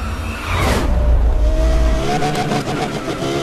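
Race car engine in Need for Speed Most Wanted revving hard and pulling away, a loud rising whine with tire squeal and skidding, a second pitch sweep climbing near the end.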